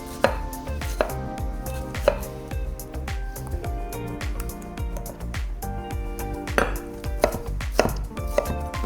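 A knife dices a vine-ripe tomato on a board, giving quick, evenly spaced chopping knocks with a few louder taps throughout and no voices.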